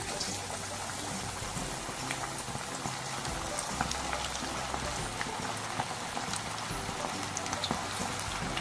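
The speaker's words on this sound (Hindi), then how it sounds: "ऑयल हमारा गर्म हो चुका हुआ है। एक एक करके पीस शामिल करते जाएंगे।" Marinated chicken pieces sizzling in hot oil over a medium flame: a steady, dense crackle and spit of frying that runs without pause, with occasional louder pops.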